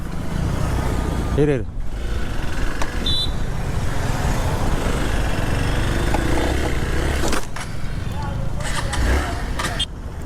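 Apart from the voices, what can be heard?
motor vehicle engine revving in fourth gear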